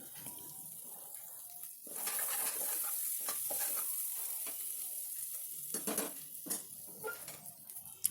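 Cleaned tripe added to a pan for a Telangana-style tripe and tomato curry, followed by stirring, with a low steady sizzle and scraping strokes throughout, fairly faint, with no talk.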